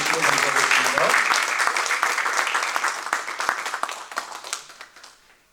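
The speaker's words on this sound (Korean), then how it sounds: "우리 큰 박수로 뉴저지의 박수로 환영해 주시면 감사하겠습니다" An audience at a New Jersey unification leadership forum breaks into warm, full applause to welcome a professor, the clapping fading gradually to silence. A voice is briefly heard at the start.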